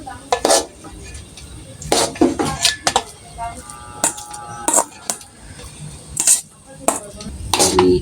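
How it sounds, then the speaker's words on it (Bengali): Food being served onto a plate: a close series of sharp spoon-on-plate clinks and scrapes in irregular bursts, with quiet background between strikes. "তো প্লেটের মধ্যে বেড়ে নিচ্ছি"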